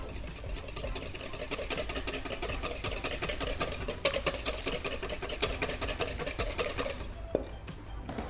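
Salted lemon cream for a potato mille-feuille is whisked briskly in a bowl, giving a rapid, even ticking patter close by that stops abruptly near the end.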